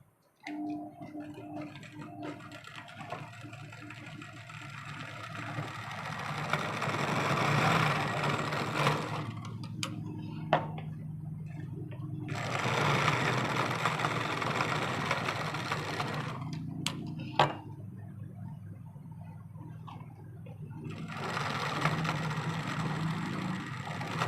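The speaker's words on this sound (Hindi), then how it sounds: "ये हमने डबल स्टिचिंग कर दी है।" A sewing machine double-stitches the side seam of a blouse, its motor whirring in long continuous runs broken by short pauses, close and steady with no talk.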